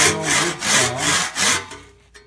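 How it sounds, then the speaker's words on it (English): A regular wood saw cuts through soapstone in steady back-and-forth strokes, about four rasping passes, loud and close with no talk, trailing off into quiet at the end. "The way you usually start off with is either sawing, and you can see this is regular wood saw"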